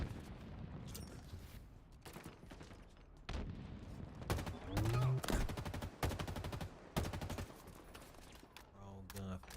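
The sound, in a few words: gunfire in Halo video game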